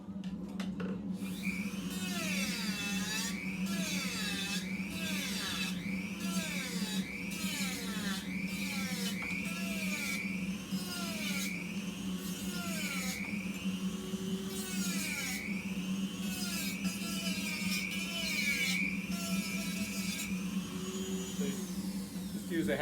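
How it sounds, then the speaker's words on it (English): A Dremel rotary tool fitted with a half-inch sanding drum grinds down an antler for a candle holder, its high whine rising and dipping rhythmically with each pass and steady underneath, close and continuous. "Use a 1/2-inch sanding drum on a Dremel tool to take it down a little bit."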